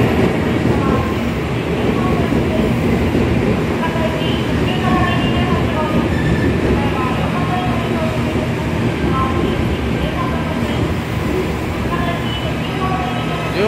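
A JR Kyushu train at a station in Saga, heard as a steady, loud rumble of rail cars and engine with faint clicking, running without a break under a voice.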